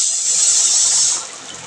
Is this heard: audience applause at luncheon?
no